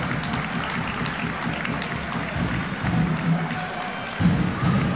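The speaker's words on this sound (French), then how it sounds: "Applaudit." Crowd noise in an arena during a French ProB basketball game, Evreux vs Quimper, with steady applause and cheering, a few thuds, and commentary running over it throughout.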